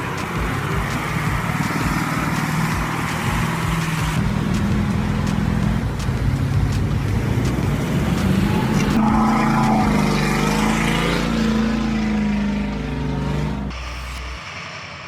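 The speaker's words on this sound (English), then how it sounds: "Crossing all kinds of terrain with the Soviet truck is no longer a problem with its large engine and tires made for moving through mud." A large-engined Soviet logging truck with mud tires grinds through mud, its heavy engine droning and revving continuously under shifting load, loud and close, with no talk.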